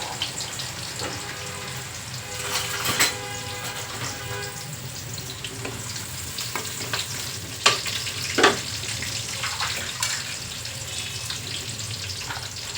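Onions and peanuts fry in a pan, giving a continuous close sizzle and crackle broken by sharp scraping and stirring clinks, with a faint running-water hiss in the background and no talking.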